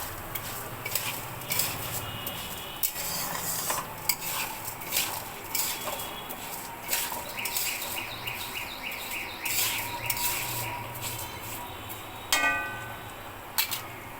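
Cashews, raisins and almonds being stirred in a pan for prawn pulao, with repeated metallic scraping and clinks of a spoon against the pan and faint bird chirps in the background.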